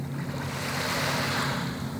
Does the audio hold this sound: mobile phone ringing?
no